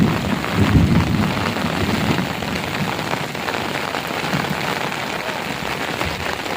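Heavy rain pours down in a thick, constant hiss, with a deep crack and rumble of thunder near the start before the downpour carries on alone.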